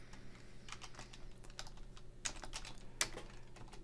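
Steady keystrokes on a computer keyboard, soft and close, with a few sharper taps standing out in a quiet room.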